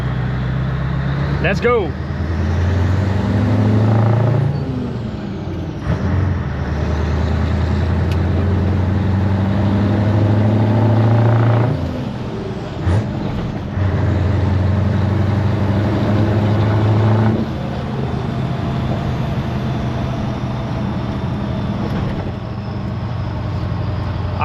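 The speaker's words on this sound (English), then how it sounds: "I just love the way this truck sounds." A Scania 143 500 V8 truck engine pulls under throttle from the cab, a deep loud rumble that rises and falls through several surges, with turbo whistle on top and someone talking over it.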